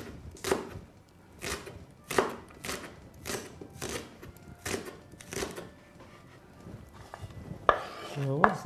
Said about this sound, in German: Die werden einfach in Scheiben geschnitten.